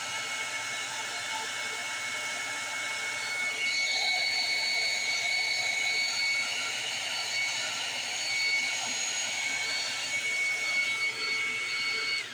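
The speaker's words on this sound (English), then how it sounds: "I'm going to heat that up just a little bit so that it'll move." A heat gun blows a steady, loud whooshing roar while warming epoxy and alcohol ink on a tumbler. The airflow hum holds unbroken for the whole stretch, close and constant.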